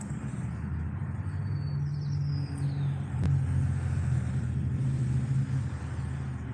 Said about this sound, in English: I don't know if you can hear the traffic